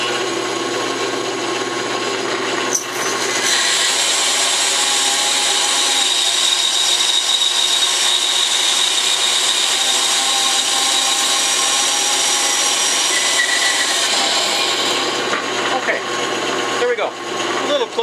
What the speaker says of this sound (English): I'm just going to turn on the bandsaw and